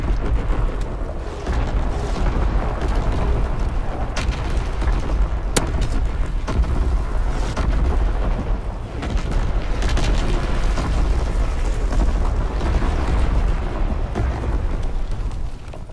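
Artillery strike in Call of Duty: WWII multiplayer: continuous heavy booming and rumbling explosions, loud and dense, rolling on without pause under sharper cracks of gunfire.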